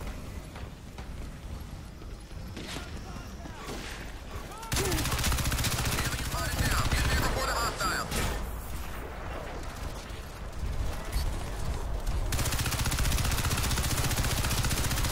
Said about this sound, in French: je vais prendre la mitraillette parce que là c'est bon